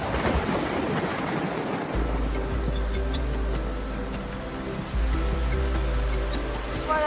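Heavy tropical rain pours down on a remote island during a survival competition in Thailand, with thunder rumbling low and loud and a dense, continuous hiss of rainfall throughout.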